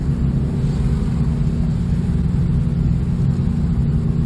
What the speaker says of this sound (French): on entend beaucoup mieux le moteur